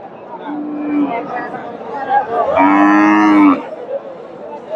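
Native cows at a cattle market moo loudly, with one short low call and then a longer, fuller moo near the middle, over a steady murmur of crowd chatter.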